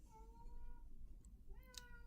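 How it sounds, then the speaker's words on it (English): A cat meows several times indoors, its harmonic cries rising and falling over a low background hum, with a sharper, higher call near the end. "So if you hear any meowing"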